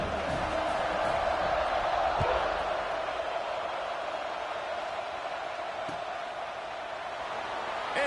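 A stadium crowd at a football kickoff roars as a broad, steady wash of noise, distant and sustained, with faint cheers rising briefly.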